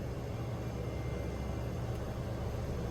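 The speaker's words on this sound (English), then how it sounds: "Here I use a bit of beta and reverse thrust to assist me in slowing down and turning" A Susi Air turboprop rolling out after landing at Dabo Singkep, Indonesia, with beta and reverse thrust, produces a steady, dense engine roar and low rumble. The roar stays constant and loud with no talk over it.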